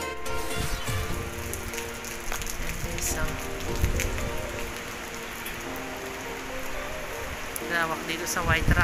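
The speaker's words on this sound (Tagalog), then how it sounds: "Guys, ulan, nakasulan." Rain during Typhoon Egay patters steadily at White Rock beach resort in Subic, Zambales. The dense drops sound close, with scattered heavier splashes and some faint voices.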